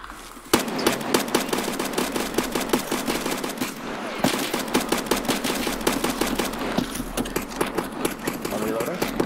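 Rapid video game gunfire in a tactical shooter, with bursts of sharp close shots and fast automatic fire rattling almost continuously, while players talk over it.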